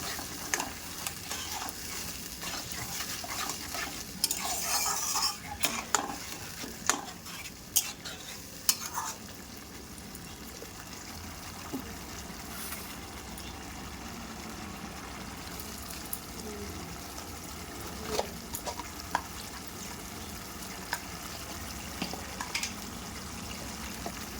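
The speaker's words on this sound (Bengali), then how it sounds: "দিয়ে আবার মশলাটাকে কষিয়ে নেব।" Masala with a splash of water is stir-fried in a wok for a Bengali fish dish, a low steady sizzle under repeated scraping and clinking of a spatula against the metal, fairly faint and without talk.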